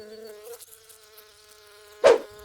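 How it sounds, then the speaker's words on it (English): Bees buzz in a thin, steady, high insect drone that carries on alone, then a short louder buzzing burst swells up near the end. "We can buzz with the bees."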